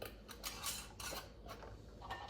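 Metal lids being set onto glass canning jars of crushed tomatoes, several light clinks and scrapes in quick succession, close and fairly quiet.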